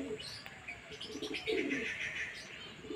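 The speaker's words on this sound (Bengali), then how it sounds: "এই আসছে 9টি পায়রা" A flock of nine pigeons flying over a house gives soft, close cooing and chirping calls over a faint outdoor background, with a hint of wingbeats.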